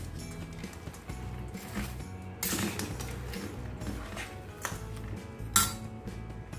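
A spoon scrapes and clinks against a bowl while mixing a cinnamon stick and a few cloves into jaggery for a sweet raw-mango relish, with irregular metallic taps and one sharper knock near the end, up close.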